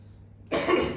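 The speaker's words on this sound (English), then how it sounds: "apologize for the coughs" A single harsh cough bursts out close by after a moment of near silence.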